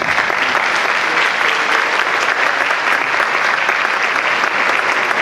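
A large congregation at a charismatic Catholic congress applauding, loud dense clapping that fills the hall evenly from start to finish.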